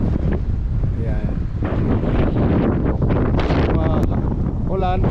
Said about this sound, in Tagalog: Ulan, tapos mahangin.